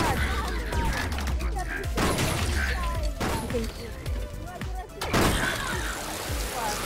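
Video game gunfire crackles in bursts with crashes and thuds throughout, a loud busy mix broken by brief pauses, with players talking over it.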